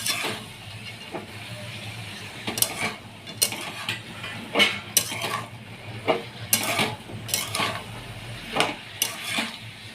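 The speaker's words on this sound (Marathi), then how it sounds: "आता मी हे सगळं चांगलं हलव हलवून घेते" A spoon stirs vegetables for traditional Bhogi bhaji in a pan with onion-garlic masala, Kashmiri red chili, garam masala, coriander powder, turmeric and salt. Irregular close scrapes and clinks sound over a steady soft sizzle, with no talking.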